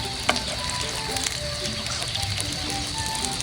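Ukoy fritters sizzle and crackle steadily in hot oil, a close, continuous fry with scattered pops and a faint clink near the start, no talking.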